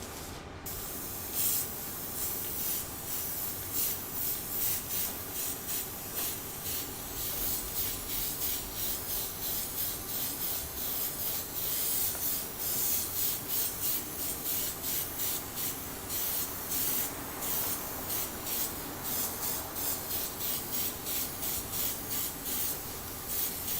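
An airbrush sprays chameleon paint onto a sample, giving a steady, soft, close hiss that pulses lightly with each pass and runs on alone without talk.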